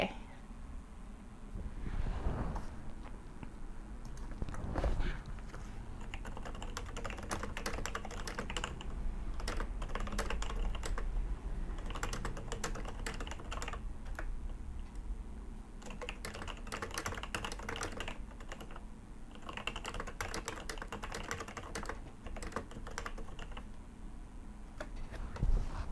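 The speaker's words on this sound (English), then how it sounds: "My keyboard sound is so clicks." Clicky computer keyboard typed on in rapid, irregular bursts of close, crisp keystrokes with short pauses, continuing steadily over a low room background.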